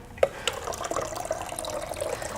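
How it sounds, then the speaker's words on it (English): Water pours into the tank of a Breville Precision Brewer coffee machine, a short, close trickling stream with a few small splashes and drips at the start. "I'm going to top up the tank with water."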